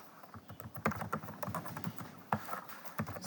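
Quiet, close typing on a computer keyboard while entering JavaScript code, a steady irregular patter of key clicks with a few louder strokes, no talking.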